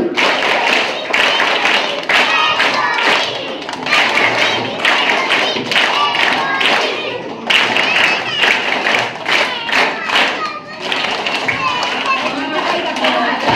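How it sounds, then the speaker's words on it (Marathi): A group of children at a Donald Duck birthday celebration claps together in loud, rhythmic bursts of three, repeated several times, with an adult voice and some chatter mixed in. "सगळ्यांनी एकदा जोरात बालरंजनच्या 3 वेळा टाळ्या वाजवायच्या"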